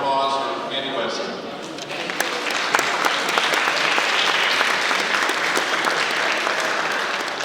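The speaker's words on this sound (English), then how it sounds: "But I'd like to give a round of applause for Andy Wesson." Applause from a banquet audience at the Leesburg Partnership awards rises after a short opening and settles into sustained, dense clapping, fairly close and loud, with a little background voice noise mixed in.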